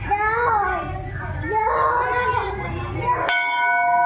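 A large bell in an old Hemadpanthi-style Shiva temple is struck once near the end, ringing out clear and sustained after children's voices and talk.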